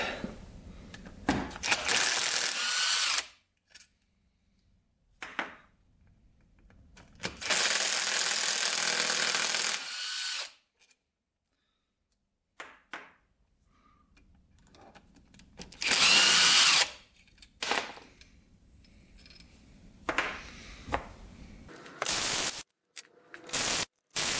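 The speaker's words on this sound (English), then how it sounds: "let's get the perimeter bolts out" A ratchet or power driver backing out the perimeter bolts of a Yamaha YFZ450 engine case, in loud bursts of a few seconds separated by quiet pauses and small clicks, close up.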